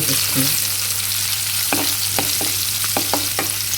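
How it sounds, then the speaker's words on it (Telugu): Garlic and asafoetida sputter in hot oil as a tempering for mango pickle, a loud continuous sizzle broken by sharp crackling pops and stirring scrapes near the end. "చక్కగా వేగిపోతుంది కదండి చూసారా మన పోపు వేగిపోయింది కదండి"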